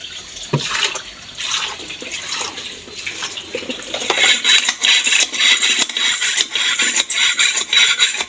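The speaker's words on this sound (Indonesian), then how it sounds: "Kita siram lagi." Water splashes and trickles onto the parts of a two-door refrigerator whose top compartment cools but bottom does not, poured from a dipper in repeated pours; steady wet hiss grows louder in the second half, with no talk.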